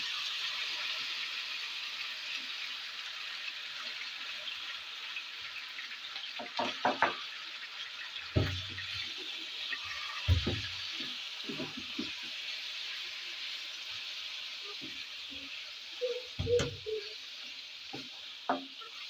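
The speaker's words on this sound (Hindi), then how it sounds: "ऑयल हमारा गर्म हो गया, चिकन डालेंगे" Chicken mince frying in hot oil for shawarma, a steady broadband sizzle throughout with scattered stirring knocks and scrapes of a utensil against the pan, no voices.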